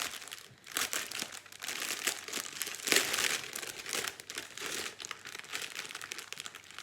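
A plastic bag of diamond painting drills being opened, with soft, continuous crinkling and rustling of plastic, close and fairly quiet, rising briefly in the middle.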